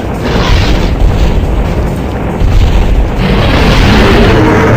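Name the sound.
flame launcher attack on a dinosaur in the video game Dino Crisis 2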